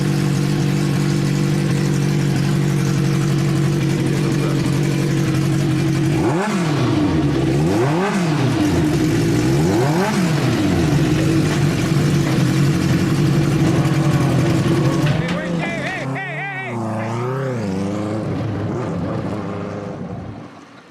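A race car engine fires up and idles roughly, then revs in several sharp rising and falling bursts before dropping back, loud and close, with a brief shout near the end.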